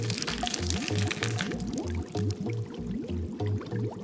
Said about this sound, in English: Which we can open and pour into the bath of snake acid.